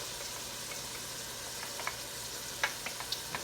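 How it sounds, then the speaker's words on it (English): Onions fry in a pan for chicken tetrazzini with a continuous, fairly quiet hiss and sizzle, marked by a few small pops and light stirring ticks near the end, and no speech. "now I'm going to add my onions to this."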